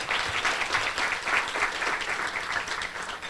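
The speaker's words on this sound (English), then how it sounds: "Let's give them a round of applause" A roomful of people at a chamber of commerce luncheon claps for county commissioners, a brisk, even round of applause heard close and continuous throughout the short stretch.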